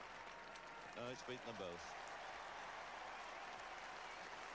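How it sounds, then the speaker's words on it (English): A cricket crowd at Headingley applauds a boundary shot in a 1970s match, steady distant clapping with a commentator speaking briefly over it. "Claiming fine ovation from this crowd here at Headingley"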